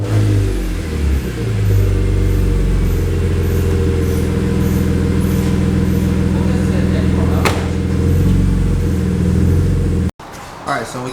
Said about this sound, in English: Let's let the car run for about 10 minutes and then we can continue.